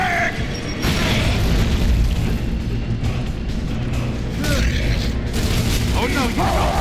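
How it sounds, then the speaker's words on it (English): In the video game Gears of War 3, a frag grenade goes off as a heavy boom inside continuous loud battle noise and mechanical clatter, with voices calling out over the din. "Throwing frag!"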